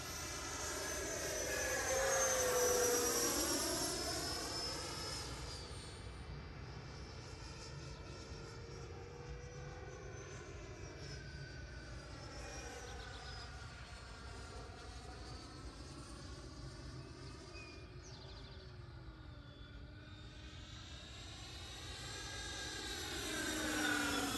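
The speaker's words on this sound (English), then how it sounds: "Push the power up a little bit right here so y'all can hear the motors pull up" Distant E-flite Viper 90mm model jet motors whine and swell as the throttle rises, the pitch bending up and down while the aircraft passes overhead.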